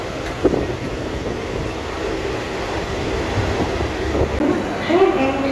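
A train pulling into Howrah station, a low rattling rumble heard from on board, mixed with wind buffeting the microphone and faint voices.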